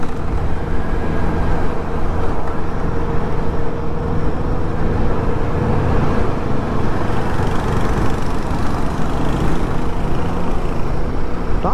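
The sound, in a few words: Royal Enfield Guerrilla 450 motorcycle engine while riding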